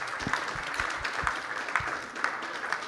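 Audience applause after a panel discussion with professors about the Polish-Lithuanian Commonwealth, a steady, dense clapping from a crowd filling the whole stretch with scattered louder claps.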